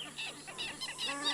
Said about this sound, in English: the birds take no chance with this intruder.